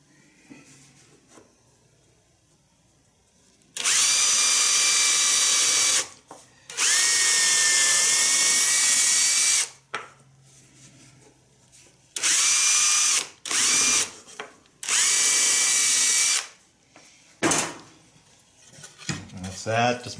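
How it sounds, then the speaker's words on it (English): A power drill whirs in several loud bursts of a few seconds each, separated by quiet pauses with faint handling noise. "so we're going to drill these holes here"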